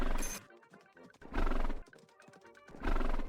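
Repeated loud neighs from a horse in a pony video game on Steam, three strained whinnying bursts in quick succession with hoof clip-clop between them, close and with no talk.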